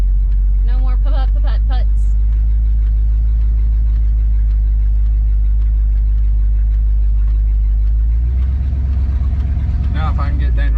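A Ford Galaxie's engine runs at a smooth, steady idle, its low hum continuous and close throughout, with someone speaking over it at the start and again near the end.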